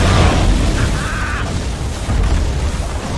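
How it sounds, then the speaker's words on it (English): Barracks collapse in Dota 2 with a loud, rumbling explosion that keeps a dense roar for several seconds, layered with clattering battle noise and no speech. "Radiant's top barracks has fallen."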